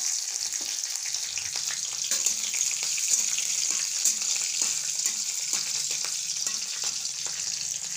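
Chopped green chillies frying in hot oil after cumin, mustard seeds and curry leaves, a steady sizzle broken by frequent small crackles and pops, close with no talk.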